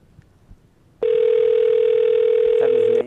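A steady telephone tone sounds continuously for about two seconds after a quiet moment, loud and close, ending abruptly.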